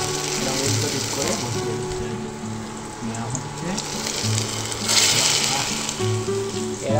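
Stuffed pointed gourd (kakrol) frying in oil in a pan, a steady close sizzle and crackle running throughout, with faint clinks and background music beneath.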